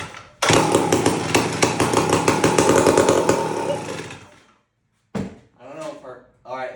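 A chainsaw is pull-cranked with the choke on after its fuel tank is refitted: a loud, close, rapid ratcheting burst of about four seconds that fails to catch, then a pause and a brief voice.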